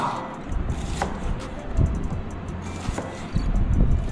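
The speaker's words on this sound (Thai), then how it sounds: "ทำการหั่นนะครับ หั่นขวา" Quiet knife chopping in a hospital kitchen as food is cut into small pieces, a few sparse, crisp strikes on a cutting board over a low background hum.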